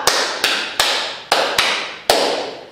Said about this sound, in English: Another bigger clap